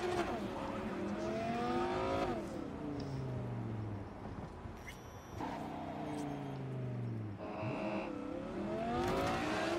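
Car engines in the video game Cyberpunk 2077 rev and rise in pitch through repeated gear shifts, racing and accelerating at speed with steady engine roar throughout.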